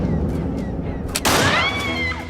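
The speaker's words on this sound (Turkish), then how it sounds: "Silah sesi miydi o?" One sharp, sudden gunshot cracks out midway, loud and close, set against faint muffled voices and a ringing tonal hum.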